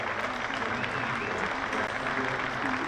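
Crowd at a Hampshire v Durham County Championship cricket match applauding a batsman's century, steady dense clapping throughout, fairly loud and continuous.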